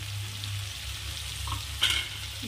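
Tomato bharit frying in a pan with sambar spice added gives a continuous close sizzle, and a stirring scrape rises briefly near the end, with no talking.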